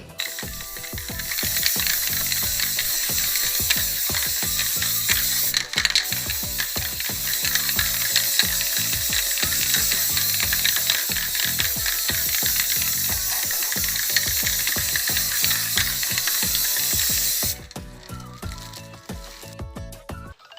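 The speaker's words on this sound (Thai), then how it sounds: "เราก็ไปทำการพ่นสีสเปรย์กันเลย" Continuous hiss of spray paint from an aerosol can coating a flower pot made from a soda bottle, steady and loud for most of the stretch, with a clicking rhythmic texture before it cuts off near the end.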